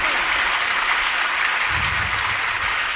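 Loud, dense applause from an audience at a devotional kirtan event, steady clapping filling the whole stretch with a deeper thump of rhythmic claps joining partway through.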